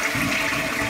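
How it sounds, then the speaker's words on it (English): A Japanese toilet in a rural house flushes with a loud, continuous rush of water, heard up close for the whole of a short stretch. "When you flush it,"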